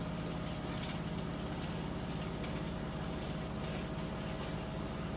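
A Samsung front-load washer spins at high speed, a loud, steady whirring drone with a constant hum and no voices.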